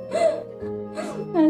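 A person crying in short whimpering, gasping bursts with wavering sobs, close and moderately loud, separated by brief pauses.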